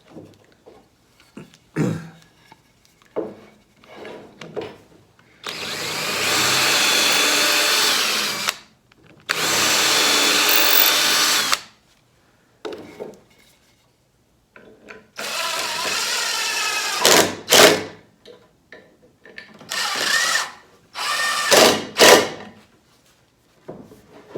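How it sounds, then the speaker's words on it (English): A power drill bores holes in pallet wood in several long bursts of a few seconds each, separated by quiet pauses with small knocks and clicks of handling. "So I'm going to drill that out a little deeper, bigger"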